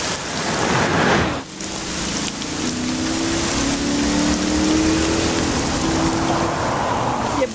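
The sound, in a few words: heavy rain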